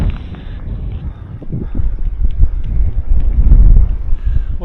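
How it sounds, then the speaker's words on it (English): Strong wind near a mountain tarn in winter buffets the microphone in heavy, rumbling low gusts that swell and build steadily, with no voices present. "it's too windy near the tarn"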